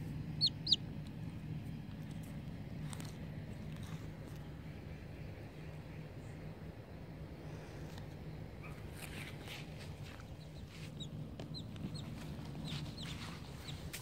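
High, thin chirps from a chick come in short scattered bursts over a steady low rumble, faint and a little distant, with a dog nearby.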